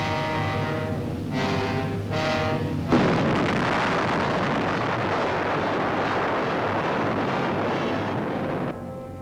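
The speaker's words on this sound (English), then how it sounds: "On deck, the crew mans its guns and lets go at a Japanese fishing smack." Deck guns aboard a wartime submarine open fire on a Japanese fishing boat in 1940s newsreel footage: a harsh, roaring blast hits a few seconds in and stays loud and sustained, over earlier droning engine-like noise.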